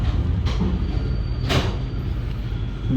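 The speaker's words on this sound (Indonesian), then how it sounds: "Kereta api Bima berangkat dari stasiun Cirebon Kejaksaan." Bima passenger train pulling out of Cirebon Kejaksaan station on the Surabaya-Jakarta southern route, heard from on board as a steady low rumble with a few sharp rattles and bumps, without talk.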